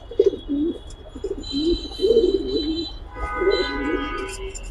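Giribaz and racer pigeons coo in a loft, several low rolling coos repeated in a loose rhythm, close by, with a few higher chirps over them.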